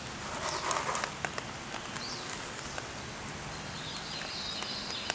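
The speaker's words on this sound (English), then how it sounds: "here comes the rain again" Steady rain falling in a forest during a gold prospecting trip, a continuous soft hiss of drops with occasional sharper patters and faint bird calls, no talking.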